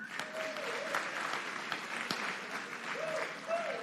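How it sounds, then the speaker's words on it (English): An audience at a live political event at Norfolk State claps together in a dense, even burst of applause lasting several seconds, with a speaker's voice rising over it now and then. "y'all clap if y'all in this group are 65 plus"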